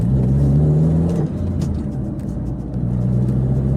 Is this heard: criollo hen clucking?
no